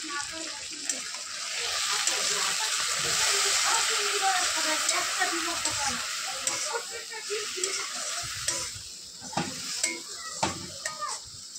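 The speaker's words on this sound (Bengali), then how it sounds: "টমেটো কুচিটা দিয়ে একটু নাড়াচাড়া করে কষিয়ে নেব ভালো করে।" Chopped tomato and spices hiss and sizzle as they are stir-fried in a pan, with a steady frying crackle broken by sharp clinks and scrapes of a utensil against the pan.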